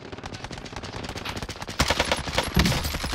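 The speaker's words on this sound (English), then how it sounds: "Lots of shooting up ahead." Machine gun fire in a battle royale video game, rapid continuous bursts building in loudness with heavier close volleys near the end, no talking.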